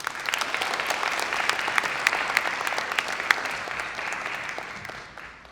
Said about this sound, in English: give a big round of applause for our keynote speaker tonight